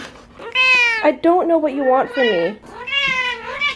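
A cat meows indoors, loud and close, with several drawn-out, insistent calls in a row while a person speaks to it.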